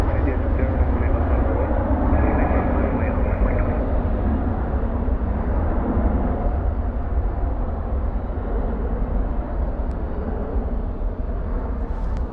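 An airliner rolls out after landing at DFW International with spoilers deployed and thrust reversers engaged, a loud, sustained broadband roar of jet engines filling the whole stretch without letup.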